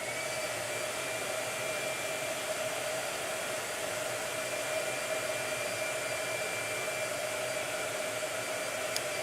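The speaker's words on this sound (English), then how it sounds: "Blow dryer. Hold on." A blow dryer runs steadily during a painting session, a constant close whirring hum with a faint high whine and no breaks or talk.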